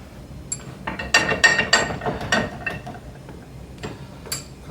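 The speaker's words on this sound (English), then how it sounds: "So this is like a deburring tool. This goes around the edge and just cuts that lip or shoulder a little bit." A hand deburring tool is worked around the edge of a steel bicycle fork tubing block, giving a quick series of sharp metallic clicks and scrapes close up, with quieter taps trailing off.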